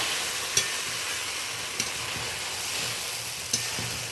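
Ridge gourd cooks down with cashew and poppy seed paste in a pan, a steady close sizzle with three sharp taps of a spoon against the pan spaced apart, no voices.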